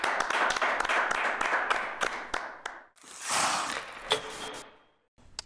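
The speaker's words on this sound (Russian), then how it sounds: "Должны быть аплодисменты." Audience applause at a New Year comedy show episode: a steady, rhythmic run of clapping for nearly three seconds, then a brief noisy swell that fades into quiet.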